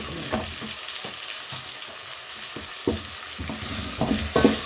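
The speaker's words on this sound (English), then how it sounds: "I add my tomatoes and my grated carrots" Tomatoes and grated carrots land in a hot pot for pilau, sizzling and frying close up while a utensil stirs in repeated scraping strokes, no voices.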